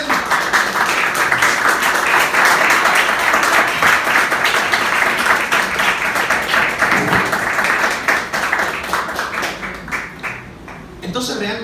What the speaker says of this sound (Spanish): Bríndale un fuerte aplauso al Rey Eterno